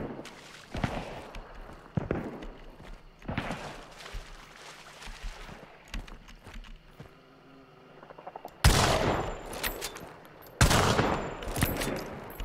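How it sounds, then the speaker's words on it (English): Gunshots ring out close by in the game Hunt: Showdown, several sharp cracks spaced irregularly, with two louder, nearer blasts near the end over quiet ambient game sound. "Shot's definitely pretty close."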